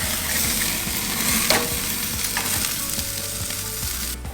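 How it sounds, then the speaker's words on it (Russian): Duck breasts laid skin side down on a hot grill, crackling and sizzling steadily with scattered pops and scraping stirs, close and loud without any talk. "выкладываем грудки на гриль, сначала кожицей вниз"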